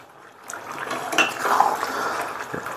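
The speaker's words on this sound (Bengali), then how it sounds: "তো এবার একটুখানি নাড়িয়ে দেবো মাংসটা ভালো করে।" Chicken meat being stirred in a cooking pot, with a spoon scraping and clinking against the metal over a soft wet simmer, close and steady for a few seconds with no talk.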